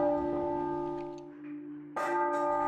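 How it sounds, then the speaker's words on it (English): Muffled church bells toll in mourning for Queen Elizabeth II with a damped tone, long ringing hums overlapping, then a fresh stroke sounds near the end. "Across the country, church bells have been muffled."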